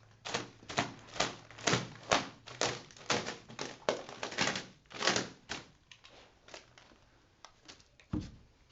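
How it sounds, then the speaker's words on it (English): A knife slices open the top of a plastic bag in a quick run of crisp cuts and crinkles, followed by a single duller thunk near the end. "I'll use a knife and I'll cut open the top of this plastic bag here."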